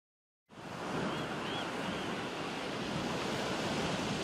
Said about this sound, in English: What draws you to the Oregon coast? Is it the green and blue surf on a brilliant sunny day